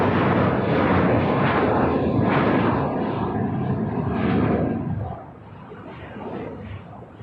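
Jet airliner taking off from the south side runways at LAX, a loud, broad engine roar sustained for about five seconds, then easing to a lower rumble as it recedes.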